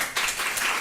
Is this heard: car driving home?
no